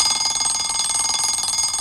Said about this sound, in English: if Lenny the Octopus needed help getting up in the morning, Wee Reg would lend him an alarm clock